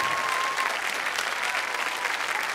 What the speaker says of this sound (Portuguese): Eu quero um aplauso para toda esta equipa